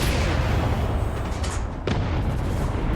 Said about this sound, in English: the cannon's about to fire.